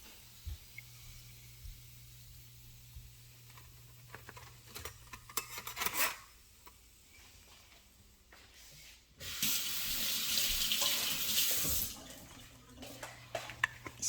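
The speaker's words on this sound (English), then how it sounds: "I'm going to rinse my hand again and get it wet for the last batch." Hands rinsed under a running kitchen tap while making puff-puff dough, with a burst of splashing water in the middle of a quiet stretch of small handling noises and faint clatter.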